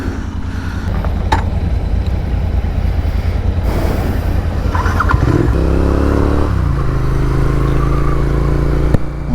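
A Royal Enfield 650 twin motorcycle cruises on a highway with a steady, loud engine drone and wind rumble, the engine note shifting as the rider changes pace partway through, with no talking.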